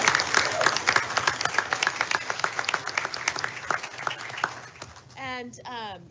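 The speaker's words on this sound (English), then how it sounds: "Let's give her a big round of applause." Dense applause from a school board meeting audience honouring orchestra teacher Kelly McFadden, steady clapping for about five seconds before a voice takes over at the end.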